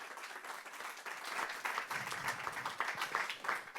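Steady applause from an audience at a French tech and science talk, dense continuous clapping that holds at an even level throughout, moderately distant, with no voices over it.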